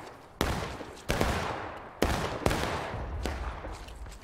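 Massed infantry rifle volleys from War of Rights, a Civil War battle game: several sharp broadband cracks at irregular intervals, some overlapping into ragged fusillades, with rolling echoes and distant shots in between.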